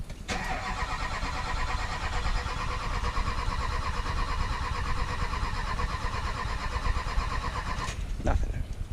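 The starter on a wrecked rollover vehicle, primed with extra fuel, cranks the engine continuously and loudly for about eight seconds without catching, then cuts off.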